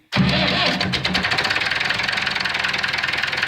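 A newly acquired piece of farm equipment cranks and its engine catches, settling into a steady, loud, rhythmic mid-pitched running idle with a knocking pulse, close by and without talk.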